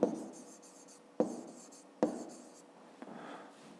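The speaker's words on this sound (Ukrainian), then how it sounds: "Ну і тепер записуємо числа." Pen writing numbers by hand on paper for a fifth-grade maths exercise: a soft, close scratching that starts afresh four times, each stroke burst fading before the next.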